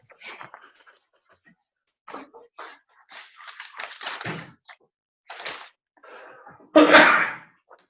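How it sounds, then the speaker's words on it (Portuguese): A single loud, sharp sneeze bursts out near the end, following quiet, intermittent speech and small movements during a lesson. "Nossa, espirrei."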